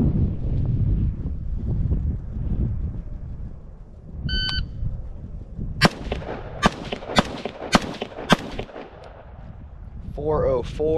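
Series of sharp 5.56 SPR rifle shots crack at a steady pace during a Trex Arms marksmanship drill outdoors, about six or seven reports over wind noise, with a brief timer beep before them.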